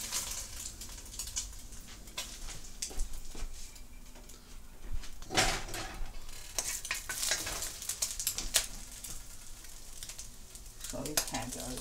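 Scallion and ginger stir-fried in a little oil in a wok, a close, crackling sizzle broken by irregular scraping and clattering stirring strokes throughout, no voices.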